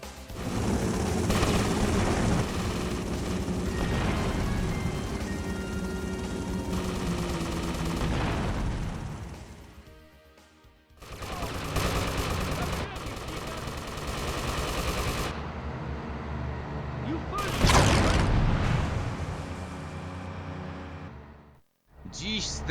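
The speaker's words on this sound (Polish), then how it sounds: "Zestrzelcie nadlatujący helikopter!" Gunfire aimed at a helicopter in the GTA Vice City Stories video game: loud, rapid bursts and booms come in waves, broken by short lulls, with voices and engine noise mixed in.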